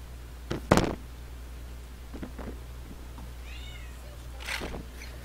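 A cat meows several times in a room, with a loud burst near the start, thinner calls partway through and another near the end, over a low steady background hum.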